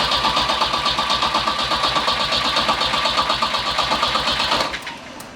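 A big turbo Volvo car engine cranks with a fast, steady rhythmic churn for about five seconds, loud and close, then cuts off abruptly.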